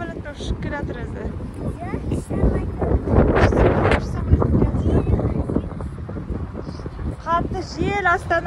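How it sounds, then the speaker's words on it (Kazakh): Strong wind gusts roaring across an open outdoor spot in Astana, buffeting the microphone steadily and swelling loudest midway, with people talking over it throughout. "Қатты жел Астанада"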